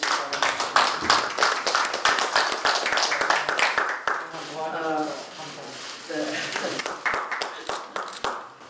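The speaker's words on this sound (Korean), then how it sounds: "큰 수고를 해주신 우리 김용희 원장님께 큰 박수 한번 보내주시기 바랍니다" Audience clapping for Director Kim Yong-hee at a Democratic Party Supreme Council meeting, with sharp irregular claps throughout and a voice speaking partway through.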